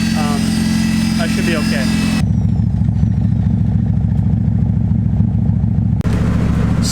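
A Honda Integra engine idles after starting, with a steady low hum that holds even throughout. Someone talks over it at first, and a single sharp click sounds near the end.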